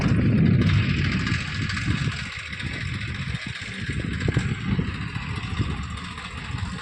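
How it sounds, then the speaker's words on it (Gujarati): A diesel tractor engine rumbles steadily nearby, with a louder burst at the start and then uneven chugging throughout. "ટ્રેક્ટર આવી ગયું છે પટમાં"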